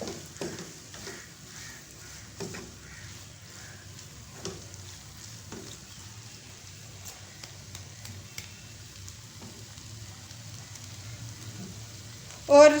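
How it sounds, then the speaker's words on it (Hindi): Garam masala being stirred into dal palak as it fries in a pan: a soft, steady sizzle with faint scraping stirs and occasional light clinks, fairly quiet and continuous, ending in a brief louder clatter. "अब हम इसमें डालेंगे ½ टी स्पून गरम मसाला और इसको मिक्स कर लेंगे"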